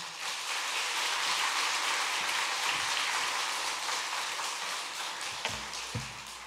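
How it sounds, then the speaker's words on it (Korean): A church audience claps continuously in dense, even applause to welcome a pastor onto the stage, with no one speaking over it. "우리 김태규 목사님 나오실 때 박수로 환영하시겠습니다"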